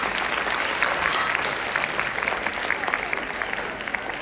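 Students applauding their principals, administrators, teachers and counselors at a school assembly during a university tour visit, a steady, fairly distant wash of dense clapping from a large crowd.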